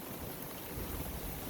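Rain falling over a backyard freshly spread with grass seed: a steady, even wash of soft hiss and patter, faint and continuous, with no voices.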